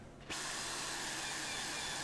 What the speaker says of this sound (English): So we're out to the shed with a trusty drill.